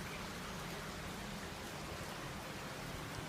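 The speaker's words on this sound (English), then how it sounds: "It is raining." Steady rain falls outdoors as a dense, even hiss of drops on surfaces, constant and close with no voices.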